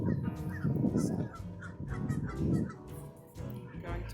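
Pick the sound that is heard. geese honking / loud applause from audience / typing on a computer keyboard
geese honking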